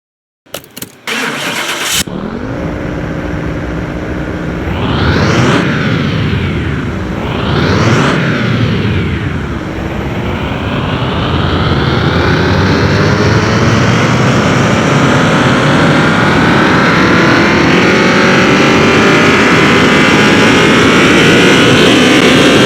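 A 1200 hp Dodge Viper engine roars on a dyno, starting up, revving hard in two sweeping pulls, then holding a loud, rising sustained high-rpm wail, close and alone.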